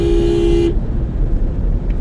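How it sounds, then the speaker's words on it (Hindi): A car horn blares inside a Lahore tunnel: one sustained honk of under a second, loud and close, then it stops, leaving low road and engine rumble echoing. "हॉर्न मारो इसको"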